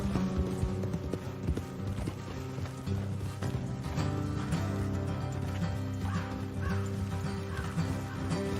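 Horse hooves clip-clop in the video game Red Dead Redemption 2 over a busy, dense background of rumbling noise, with occasional bird caws mixed in.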